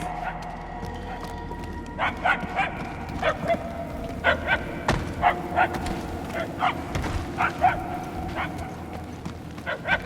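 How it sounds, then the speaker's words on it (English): A small dog barks and yips repeatedly in uneven bursts over a quiet background hum, with short pauses between clusters of barks. From the video game Marvel's Guardians of the Galaxy. "We are no closer to the source of the barking."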